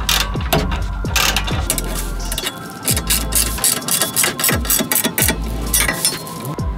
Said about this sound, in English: What we can do now is go around and tighten everything up